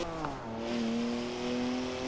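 BMW car in Forza Horizon 4 drifting, its engine holding a steady, rising drone near and loud throughout, with a faint tire squeal blended into the continuous roar.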